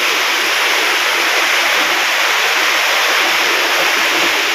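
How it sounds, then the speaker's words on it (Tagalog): Strong wind and heavy rain in a countryside farm setting roar as a loud, dense, continuous hiss with no breaks, heard up close and without any talk. "malakas na hangin na yun, oh. Hangin at ulan."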